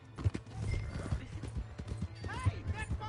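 Horse hooves clip-clopping in Red Dead Redemption 2, a quick uneven run of close thuds with a brief whinny, people talking over it.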